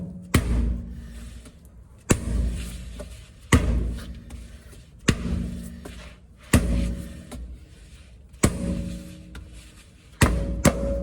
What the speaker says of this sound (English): looks like I have to get a hammer or something to get it off